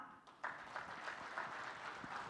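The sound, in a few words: audience applause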